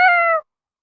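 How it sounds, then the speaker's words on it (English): A single clear, close meow from a cat outside a grocery store, short and loud, then silence. "There's a cat around here somewhere."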